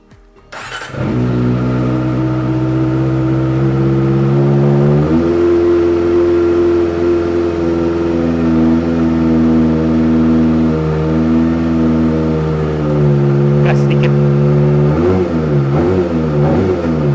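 A Kawasaki Ninja ZX-25R ABS SE with a screaming in-line four and a Frigus aftermarket exhaust starts up loud and close, holds a high, steady idle, then blips the throttle in sharp revs near the end.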